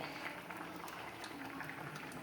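Liquid boiling in a saucepan on a stove, a steady, fairly quiet bubbling hiss with small pops, continuous throughout.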